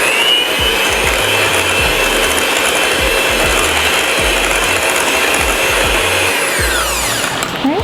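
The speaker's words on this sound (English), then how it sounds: "Gonna give this a quick mix." Electric hand mixer whirring steadily as it blends cake frosting with vanilla extract for an orange cake, a loud continuous motor drone for several seconds with no talking, easing off at the very end.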